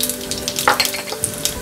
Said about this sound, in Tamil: இப்போ ஆயில் ஹீட் ஆனதுக்கப்புறம் நம்ம வந்து கடுகு வந்து தாளிக்கிறதுக்கு ஆட் பண்ணிக்கலாம்.